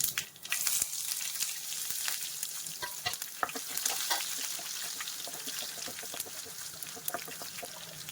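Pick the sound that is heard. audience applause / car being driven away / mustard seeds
mustard seeds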